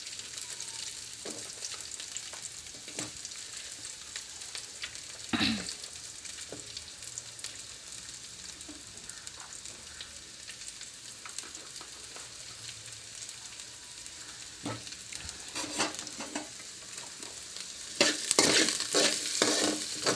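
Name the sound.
frying tomatoes in a pan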